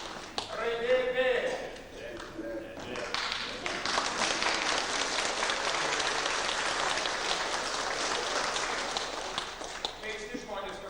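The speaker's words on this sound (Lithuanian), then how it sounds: "jau vienas eina lenktis, o kiti ploja" An audience claps steadily at a Lithuanian accordion ensemble presentation in Kaunas, the applause swelling after a few seconds and holding as a dense, continuous patter, with someone talking over the start.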